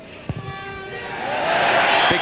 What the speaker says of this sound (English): Big cheer from the far side.